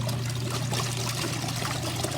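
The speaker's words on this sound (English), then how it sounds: "it's draining because draining down into the hole you can see" Water drains from a mini portable washing machine in a steady, close trickling rush that runs unbroken throughout, with no voices.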